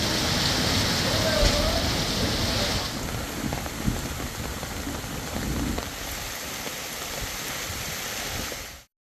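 Heavy rain pours steadily in the Chennai area during a storm with strong wind, a dense, continuous hiss of falling water that stays loud and even throughout, with a voice faintly audible underneath.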